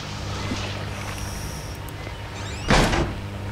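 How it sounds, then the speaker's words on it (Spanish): A door in the Outlast horror game opening with a brief creak and then a heavier scraping thud near the end, set against a low humming background in a dark basement. "Se abrió la puerta esta, se abrió la puerta."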